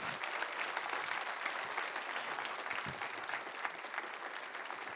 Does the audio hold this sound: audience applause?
yes